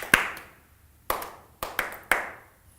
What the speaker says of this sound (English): you then eliminate saying the word and you just clap it.